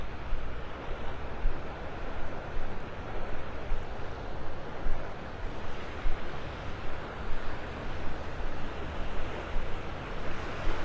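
Ocean surf washing steadily onto the shore at Delnor-Wiggins beach in North Naples, Florida, a continuous broad rush of waves with wind noise buffeting the microphone throughout.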